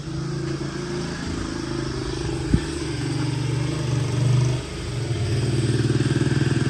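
A motorcycle engine putters at a steady idle nearby, its drone growing a little louder and rougher as it moves, with a single sharp knock partway through.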